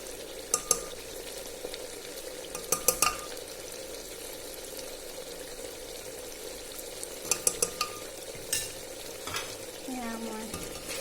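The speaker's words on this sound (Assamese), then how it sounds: "সেয়া মই এনেকৈ লৰাই দিছোঁ।" Ginger garlic paste and mutton masala being stirred in a frying pan, with a steady sizzle beneath repeated scraping strokes of a spoon against the pan.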